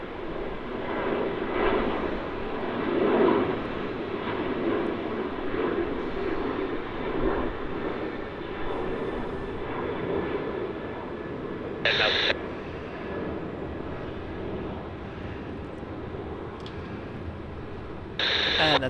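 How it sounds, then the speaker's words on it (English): A Qantas Boeing 737-800 jet departs with a sustained engine rumble at moderate distance, while a few short radio-like beeps cut in near the middle and again at the end. "Qantas 737-800 going to Wellington"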